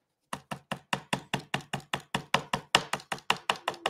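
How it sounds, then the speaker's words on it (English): Rapid, evenly spaced dabbing taps from a stencil brush pouncing paint onto a clock, about four or five per second, close and crisp. "I'm almost done pouncing if that noise is annoying to you."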